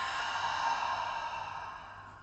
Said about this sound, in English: we're going to take some big deep breaths into our tummy